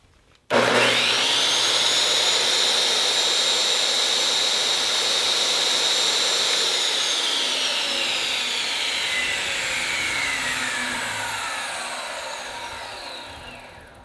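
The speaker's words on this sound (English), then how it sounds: "Table saw is running 300 watts." A table saw powered by a Geneverse HomePower Pro 2 portable power station starts abruptly, settles into a loud, steady high whine, then spins down and gradually fades with a falling pitch.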